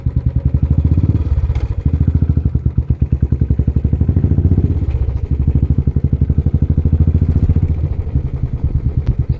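Royal Enfield Classic 350 single-cylinder engine and exhaust thump steadily in a loud, close, even beat while riding, with no talk over it.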